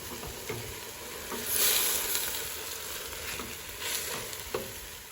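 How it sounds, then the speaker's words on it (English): Beef and its juices go back into a hot pan for beef stroganoff, setting off a continuous moderate sizzle with a louder surge and scattered stirring clatter; no talking. "I'm going to add the beef back in, and all of the juices"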